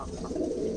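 Soft, low cooing from Madrasi pigeons, a steady murmuring coo that fills the short moment with no speech.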